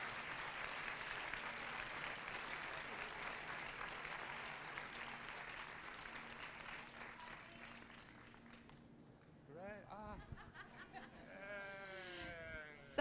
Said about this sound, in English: I'd like to call for all the designers to come out and get a little applause for them for a great collection.